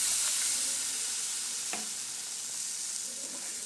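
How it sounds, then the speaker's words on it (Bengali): Semolina for spicy jhal suji is stirred in a pan just after water goes in, giving a steady close hiss and bubbling sizzle with a faint scrape of the spoon. "এবার আমি খুব ভালো করে এটা নেড়ে দেব"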